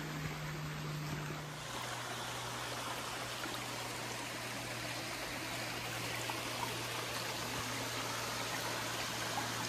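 Steady rushing flow of a small stream in a garden strewn with orange autumn leaves, continuous and even throughout, with a faint low hum present early on.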